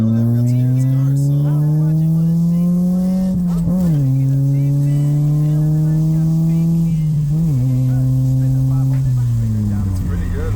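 An Acura car engine runs and revs, a loud, steady buzzing drone that climbs in pitch twice and then settles back, close to the microphone.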